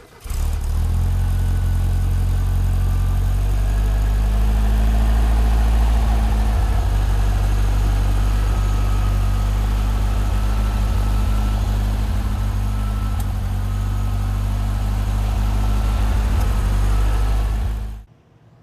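A 1970 Volkswagen Beetle with American specifications runs at a steady idle, a loud, close, even engine rumble that holds for the whole stretch before cutting off abruptly at the end.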